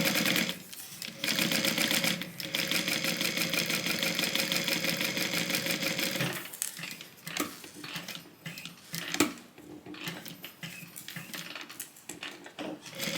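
A sewing machine stitches an overlay onto a tote bag, a fast even mechanical whir in a sustained run, then pauses with clicks and handling of fabric and short bursts of stitching.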